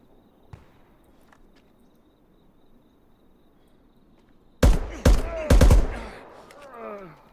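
Gunfire in the shooter game The Day Before: after a quiet stretch with a faint early pop, a loud burst of several close shots hits, followed by ringing echoes.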